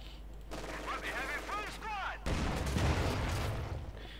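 Company of Heroes 2 battle: a T-34/76 tank trades fire with a Pak 40 anti-tank gun and a Panzer IV. The shots come in sharp bursts, then a heavier volley of gunfire and blasts crashes in, all fairly faint.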